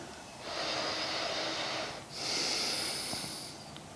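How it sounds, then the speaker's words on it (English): Slow, audible breaths drawn in and out during a held yoga pose, two long airy exhalation-like swells filling the quiet, close and soft with no talking. "A few more breaths here."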